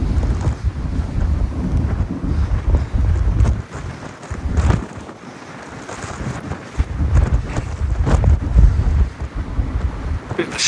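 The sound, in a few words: stormy wind on boat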